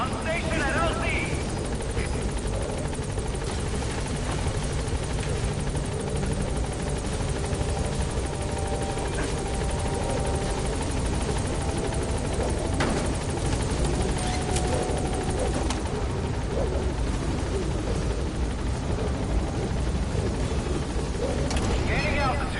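Pequod helicopter approaching a landing zone in Metal Gear Solid V: The Phantom Pain, a loud continuous rotor thump and engine roar filling the whole stretch, with radio chatter over it.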